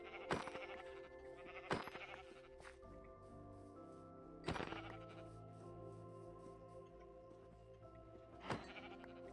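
Several sheep bleat in turn in Minecraft against a steady low hum, with sharp, loud cries spaced a few seconds apart.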